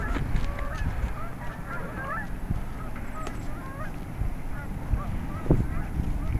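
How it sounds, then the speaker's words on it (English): A flock of geese honks repeatedly at a distance in snowy aftermath of an October snowstorm in Bucks County, Pennsylvania, with many overlapping calls over a low rumbling background. "Look at all those geese."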